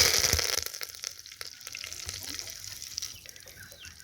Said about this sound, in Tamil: கருவேப்பிலையை போட்டுக்கலாம்.